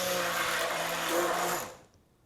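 A blender grinds cooled cooked marinara sauce, a loud steady whir that runs for about a second and a half, then winds down and stops.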